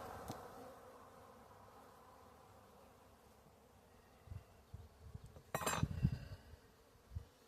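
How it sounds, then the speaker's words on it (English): Honey bees crowd a hive frame where comb building is under way, giving a soft, steady low buzz throughout, joined near the end by a brief cluster of knocks and a light clink from handling the frame. "A lot of bees on this frame here."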